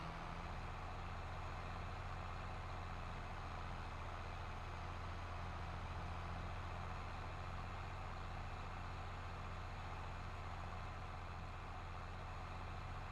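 A tractor engine in Farming Simulator 22 drones steadily while coasting downhill off load during winter disking, a constant low hum with no speech over it.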